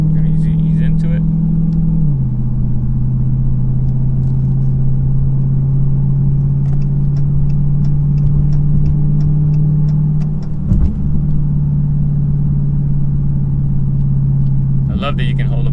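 A 2020 Dodge Challenger Hellcat with a mid muffler delete drives along, its engine a loud, steady low drone that drops in pitch at a shift and then holds a continuous exhaust rumble throughout.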